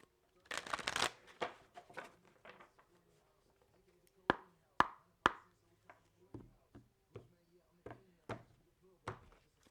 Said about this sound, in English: I'll shuffle here.